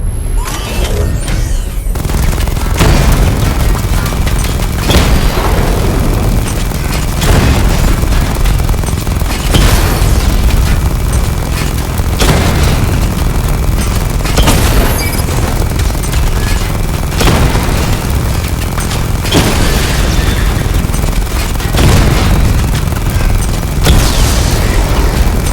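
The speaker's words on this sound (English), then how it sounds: "Charge the missile barrage to level 2 to destroy up to 4 targets at once." A Batman Arkham Knight missile barrage sets off a long run of heavy booming explosions, roughly a dozen loud detonations spaced a couple of seconds apart over a constant rumbling battle din.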